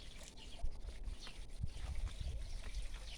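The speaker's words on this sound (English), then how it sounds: "Can you hear the water in the background?" Soft water trickling and splashing steadily in the background, a gentle outdoor burble with faint rustling.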